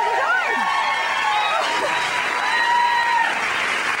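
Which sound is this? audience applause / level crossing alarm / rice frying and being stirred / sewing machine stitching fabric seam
audience applause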